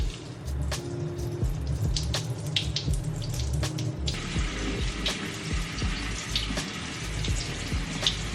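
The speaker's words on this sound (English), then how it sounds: "Now we have to wash off the rice." Running water splashes steadily into a sink as sushi rice is washed with filtered water, a continuous close gush with small clinks and taps throughout.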